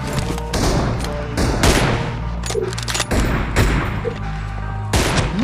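Rapid gunfire bursts and repeated shots from a multiplayer shooter video game match, loud and sustained across the whole stretch, with little or no talk.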